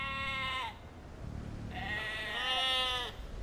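Sheep in Age of Empires II bleat in two clear, wavering calls, the first short and the second longer and rising, close and distinct over a quiet game backdrop.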